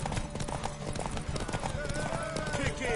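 Rapid hoofbeats of a galloping horse clatter steadily amid a busy mix of voices and background sounds from The Witcher 3: Wild Hunt.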